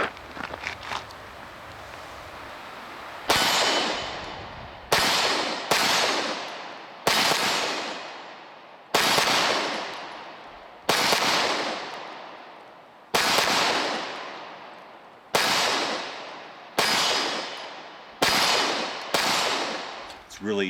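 Pistol shots from a Walther Creed or CZ P-10 C, about ten loud, sharp reports with echoing decay, fired at uneven intervals of one to two seconds, close to the listener, with brief talk before the first shot.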